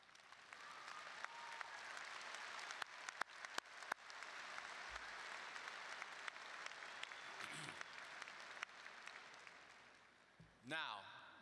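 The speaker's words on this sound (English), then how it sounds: "stand up again and let us applaud you." An audience applauds graduates at a graduation ceremony, with sustained clapping filling the hall from the start and fading near the end, followed by a brief low thump.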